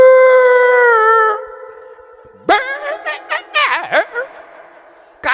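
A voice imitates a female dog howling at a comedy stage show: a long, wavering, sustained howl, followed by squealing, yelping vocal bursts and one short final yelp, loud and close.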